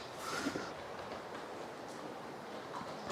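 Model train circling its track with lit carriages, a faint steady rolling rumble, close by in a quiet room.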